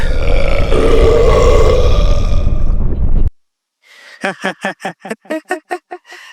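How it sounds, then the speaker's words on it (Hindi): A very loud, drawn-out burp rumbles continuously for about three seconds, then cuts off; after a short silence comes a rapid series of short, rhythmic vocal bursts, all close and prominent. "वो सब तो हमारी डकार थी बेटे।"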